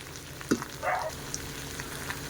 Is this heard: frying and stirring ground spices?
yes